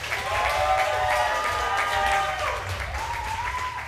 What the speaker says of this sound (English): Please give a big round of applause for Seth!